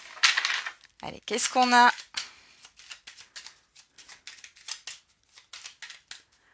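Tarot cards are shuffled in a quick series of crisp, papery flicks and light taps, interrupted by a voice speaking, with the card sounds continuing afterward.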